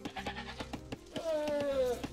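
Sheep bleat in a real-time strategy game, a short wavering call rising clear over busy game effects and a commentator's talk near the end.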